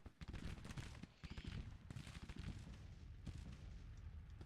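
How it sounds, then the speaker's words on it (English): Artillery and massed gunfire in a war strategy game, dense rapid volleys and booming shots crackling continuously, close and loud, with sharper bursts standing out in the ongoing barrage. "I want that artillery to start"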